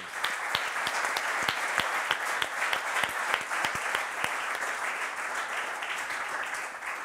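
An audience claps for a few seconds, with sharp individual hand claps popping out of a steady wash of applause that runs through the whole stretch.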